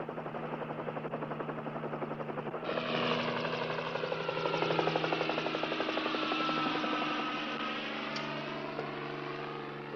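A helicopter flies over mountain terrain near a ranger station, a steady droning engine and rotor hum that swells a little partway through and stays continuous with no voices.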